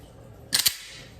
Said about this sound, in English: So if you just pull back really quickly on the slide